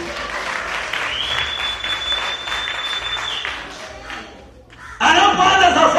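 A church congregation at a sermon by a Kenyan pastor applauds loudly, clapping steadily under the preacher's voice, dipping briefly and then surging again in a burst of clapping and cheering.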